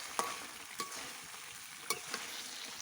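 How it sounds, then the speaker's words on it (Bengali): Beef kala bhuna sizzles in a large pot over a wood-fired stove as it is stirred, a soft steady frying hiss broken by a few scraping knocks of the spoon. "দেখি একটু নাড়াচাড়া দিয়ে নিই।"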